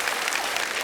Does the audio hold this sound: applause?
yes